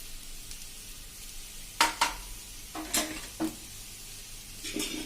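Chopped coriander leaves tossed into a pan of sizzling fried potato chips with the gas turned off, giving a soft steady sizzle broken by a few sharp scraping stirs and clinks of a utensil.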